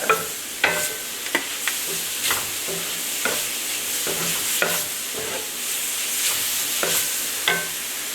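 Vegetables sautéing with cumin and chili powder in a pan, a bright steady sizzle broken by regular scraping stirs about once a second, close and loud, with no speech.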